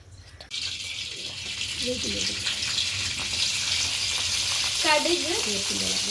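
Mustard seeds and curry leaves tempering in hot oil for a peanut chutney, a steady crackling sizzle that builds after a sudden start, with a voice speaking briefly partway through.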